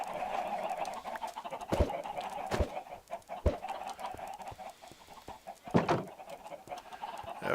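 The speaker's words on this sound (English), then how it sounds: "Lots and lots of chickens." Chickens in Minecraft clucking and squawking steadily as a crowd, with occasional sharper clucks and clicks popping out of the continuous flock chatter.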